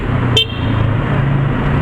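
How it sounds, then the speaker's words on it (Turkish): A short, sharp car horn toot sounds over a steady Yamaha R25 motorcycle engine rumble and road noise in city traffic. "Hafiften korna da çalalım."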